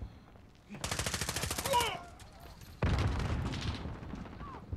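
Gunfire in Call of Duty: Modern Warfare, two loud bursts of rapid automatic fire, each lasting about a second or more, with a brief lull between them.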